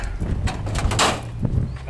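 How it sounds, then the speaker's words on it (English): The back door of a 10 square metre solar basket cooker swung open, a short close run of clunks and a metallic scrape within a couple of seconds, with no talking. "here we can see the back door, which we can open and"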